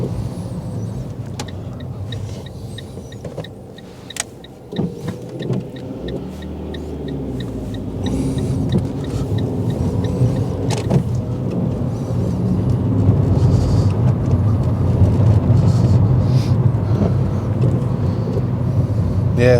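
A Fiat 500 1.2 is driven after a clutch slave cylinder replacement, heard from inside the cabin as the engine hum rises and falls through gear changes, with some clicks and knocks early on and a growing road rumble.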